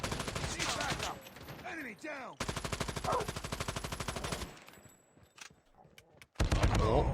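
Automatic gunfire in Call of Duty Mobile, loud bursts of rapid rattling shots broken by short pauses, with a final burst closing things out; a voice talks briefly between volleys.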